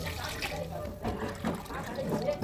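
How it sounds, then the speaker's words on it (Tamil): Ginger water poured from a tumbler into rice for a homemade biryani, a continuous splashing and trickling stream with a few gurgling bursts, close and moderately loud. "தண்ணி ஊற்றிட்டேன் அந்த இஞ்சி தண்ணி 3 டம்ளர் ஊற்று"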